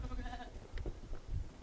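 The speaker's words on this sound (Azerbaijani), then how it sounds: "Qoyunlar var da içəri dəqiq girə bilmirik." Sheep on a farm bleat from inside a shed with a slate roof, a few short wavering calls early on followed by fainter stirring and shuffling, with no talk.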